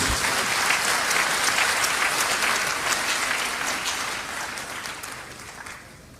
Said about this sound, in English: Please applaud Professor Mrs. Rita Akosua Dixon.